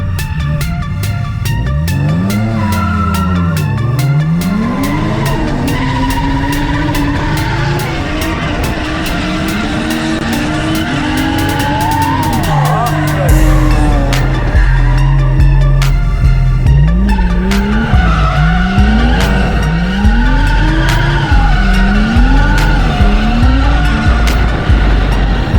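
BMW E36 drifting on a track, its engine revs climbing and falling in repeated sweeps under long loud tire squeals, with a deeper engine drone taking over partway through.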